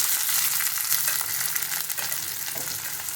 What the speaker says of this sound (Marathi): कांदा चांगला तांबूस रंगाचा होईपर्यंत आपण त्याला परतून घेऊया तेलात